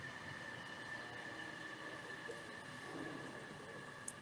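A train rolls past a bar in a steady, distant rumble with a sustained metallic whine and a faint click near the end, low in level and continuous throughout.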